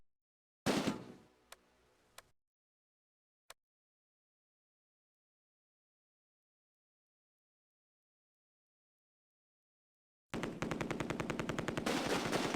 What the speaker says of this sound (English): A machine gun opens up on the right. A heavy machine gun squad in the warehouses.